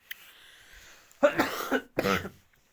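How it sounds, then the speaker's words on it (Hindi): Two harsh coughs in quick succession, close and fairly loud, following a brief faint murmur. "खांसी हो गई है"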